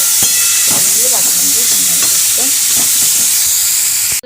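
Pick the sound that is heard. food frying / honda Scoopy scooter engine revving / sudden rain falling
food frying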